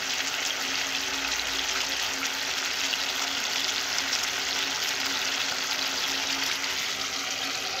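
Vegetables sautéing in mustard oil in a pan, a steady dense sizzle and hiss that carries on evenly throughout, close and fairly loud, with no talking.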